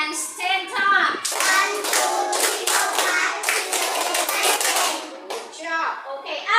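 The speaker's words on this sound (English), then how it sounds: "Clap your hands 10 times." Kids in a classroom clap their hands ten times, a quick run of bright, close claps blending with children's voices that carry on over and after the clapping.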